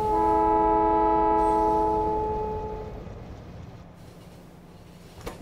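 Trains pull out of a station in the Factorio video game, opening with a loud sustained multi-tone horn chord for about three seconds, then a fading rumble of rolling wagons and a brief clank at the end.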